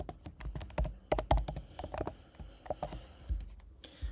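A password being typed on a computer keyboard, close and quiet, with a quick irregular run of key clicks and a few heavier taps, ending in a short pause before a last keystroke.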